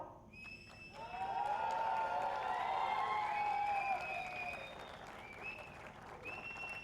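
An audience applauds the star cast of a new TV serial at its launch event, sustained clapping that swells and holds with a few whistles, while a bright tonal sound rings over the crowd.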